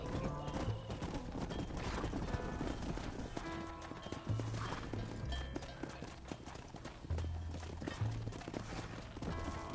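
Horse hooves clip-clop in a busy, dense mix with game-like music and ambience while the animal moves along. The footfalls are heard steadily under the music.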